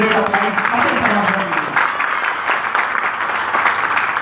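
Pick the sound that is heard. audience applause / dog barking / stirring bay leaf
audience applause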